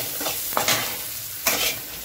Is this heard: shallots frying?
yes